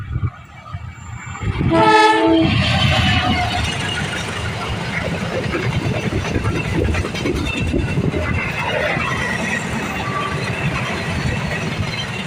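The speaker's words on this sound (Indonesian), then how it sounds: "Itu kereta api Kedung Spur berpapasan dengan kereta api Erlangga." Two trains, the Kedung Sepur and the Erlangga, pass each other near Semarang Tawang station, with a loud horn blast around two seconds in, then a sustained rolling rumble and clatter of wagons up close.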